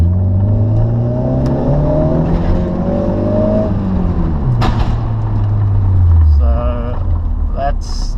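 Alfa Romeo Spider engine heard from inside the car in a parking lot, a loud low drone rising and falling as it revs, with a brief metallic clatter near the end.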